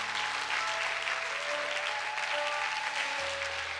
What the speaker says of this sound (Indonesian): berikan tepuk tangan buat Tuhan yang dahsyat